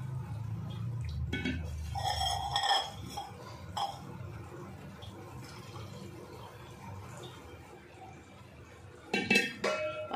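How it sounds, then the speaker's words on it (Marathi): A spoon scrapes and clinks against a pot as hot milk is quickly stirred into fenugreek rice porridge, with bursts of metallic clatter at the start and end and quieter stirring in between. "आता ह्याच्यामध्ये गरम गरम दूध टाकायचं आणि गॅस कमी करायचा आणि पटपट मिक्स करायचं ते."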